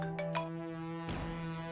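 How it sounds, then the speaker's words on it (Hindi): A mobile phone rings with an incoming call, a bright electronic ringtone with a couple of quick chiming beeps over a steady tone, in a domestic drama scene. "पुलिस स्टेशन से फोन आ रहा है।"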